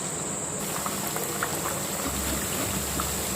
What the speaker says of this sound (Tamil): ஒரு கடாயில் வந்து சூடான எண்ணெயில் போட்டு நம்ம பொரிச்சிடலாம்